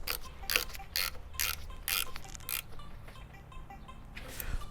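A ratchet wrench snugs down the battery terminal clamps on a Toyota Land Cruiser, giving a run of quick, evenly spaced metallic clicks up close that thin out toward the end.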